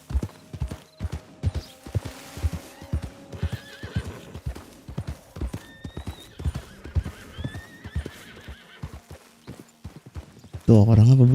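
Horse hooves clip-clop in a steady run of sharp, evenly spaced beats inside a roleplay video game, with a horse neighing partway through and a voice talking over it near the end.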